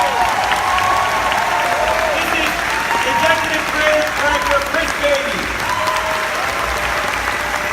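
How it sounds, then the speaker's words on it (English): Audience applause at a Star Wars Galaxy's Edge presentation during Galactic Nights, a dense steady roar of clapping sustained throughout, with a man announcing names over it. "Please join me in giving them a huge round of applause."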